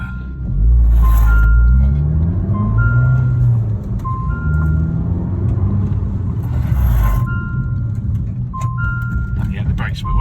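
An Abarth car pulls away in second gear with the throttle floored, a loud low engine rumble swelling and then easing, with intermittent beeping tones and someone talking over it.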